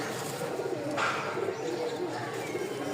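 Rajshahi giribaj pigeons, a pearl-eyed variety, coo softly in a loft, with low repeated calls, a brief flutter or scrape, and faint voices nearby.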